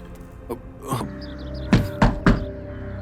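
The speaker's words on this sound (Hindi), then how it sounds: "अरविंद दरवाजा खोलो।" Someone knocks on a door, first with a few softer taps and then with three loud, heavy thuds close by in quick succession. Nobody speaks.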